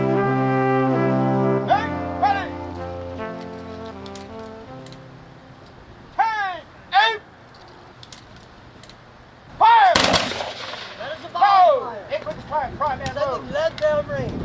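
Soldiers fire guns during a military demonstration at Fort McHenry. Sharp, loud reports ring out at about six, seven and ten seconds, followed by echoing crackle. Whistle-like tones and shouted commands sound around them.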